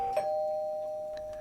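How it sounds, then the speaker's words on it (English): A single clear doorbell chime rings once and then sustains a steady fading tone in an otherwise quiet room, with no one talking. "The doorbell rings,"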